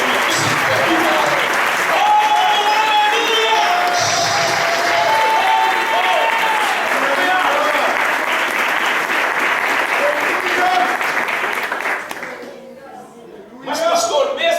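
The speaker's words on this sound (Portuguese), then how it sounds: "pode aplaudir o Senhor com alegria" A church congregation applauds loudly and continuously during a worship service, dense clapping filling the space for most of the stretch before fading briefly and swelling again, with voices mixed into the crowd noise.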